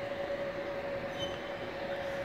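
A train hums steadily in the large space of Brescia's main railway station in Italy, with a sustained tonal whine over a low rumble, fairly faint and continuous.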